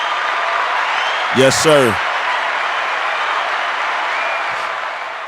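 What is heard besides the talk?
audience applause for a show opening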